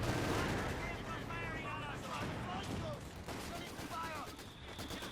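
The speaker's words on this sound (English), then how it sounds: "Mortar fire landing down here as well." Mortar fire lands in a Company of Heroes 2 match, dense thuds and crackling gunfire under a constant battle roar, with whistling shells overhead and a commentator talking throughout.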